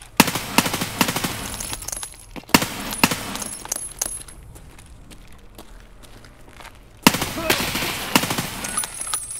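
Gunfire from several weapons in Escape From Tarkov: sharp, loud bursts and single shots crack in quick succession, fade into a quieter lull midway, then a fresh volley breaks out near the end.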